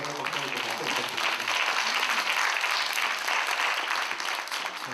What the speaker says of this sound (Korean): 오늘 강연해주신 전영범 박사님께 박수 부탁드립니다.